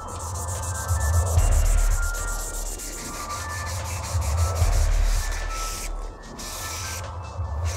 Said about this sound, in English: start scribing in those panels